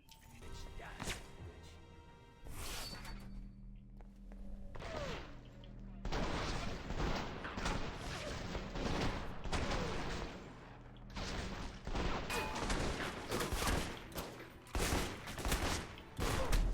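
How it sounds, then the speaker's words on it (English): Gunfire in the stealth action RPG Alpha Protocol rattles in loud bursts of rapid shots, with sharp separate cracks and busy game noise around them. "The bullets are just flying out of the gun."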